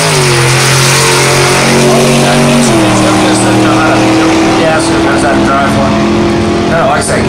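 A Chevelle drag car at a drag strip accelerates hard, its loud engine note climbing and shifting under an announcer's voice.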